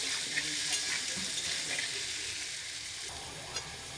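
Potatoes, seasoned with turmeric and salt, fry in oil with a continuous close sizzle, soft spatters and an occasional stir of the spatula, easing slightly toward the end.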